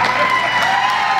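Arena crowd at a wrestling event claps and cheers in a dense, steady wash of applause with scattered whoops, loud and continuous throughout, with some voices mixed in.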